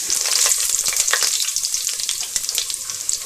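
Crushed garlic and a bay leaf hit hot oil for a curry, giving a loud, bright sizzle with sputtering crackles that gradually settle, no talking.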